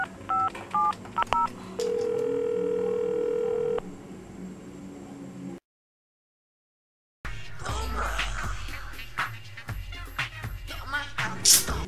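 Telephone keypad tones: a quick run of dialing beeps, then a steady dial tone held for about two seconds. A silent gap follows, then busier, noisy sound.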